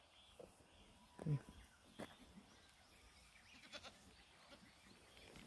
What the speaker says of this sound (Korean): 염소떼들이 이제 염소가 저 시간이 돼서 이제 집에 들어가려고